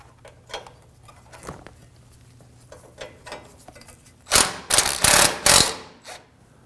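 A ratchet works 13mm bracket bolts on a 2009-2014 Ford F-150 3.5L V6 intercooler, making soft clicks at first and then several loud, fast rattling bursts close to the microphone near the end.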